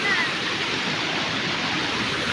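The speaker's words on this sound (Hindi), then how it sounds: "डूंगरी का पानी आई थिंक दोस्तों" Water rushes down from a hill in a steady, broadband hiss, close and continuous like a small stream or runoff during rain, with a voice briefly present.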